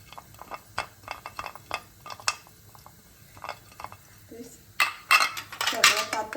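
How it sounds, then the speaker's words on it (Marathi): Metal idli steamer pot being greased with oil makes a run of light clinks, taps and scrapes of metal on metal, ending in a louder clatter, while someone talks over it. "आता हे इडली पात्र आहे, त्याला आपण तेलाने असं ग्रीस करून घ्यायचं"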